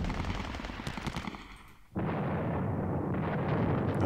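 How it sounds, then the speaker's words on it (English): Rocket artillery fire in the World War II strategy game Panzer Battles, Kursk southern flank: a dense, loud roaring barrage that briefly dips away and then surges back to a sustained rumble. "The sound of those rockets, man."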